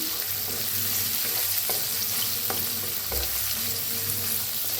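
Green chillies and other ingredients roast in a pan with a steady, moderately loud sizzle and a few soft scrapes of stirring, with no voices.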